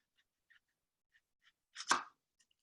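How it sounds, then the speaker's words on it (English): A knife thinly slicing a red onion on a cutting board: a few faint, light taps, then one louder, sharp cut near the end. "We're going to thinly slice this red onion."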